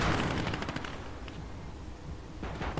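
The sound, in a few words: gunfire in the video game Gates of Hell: Liberation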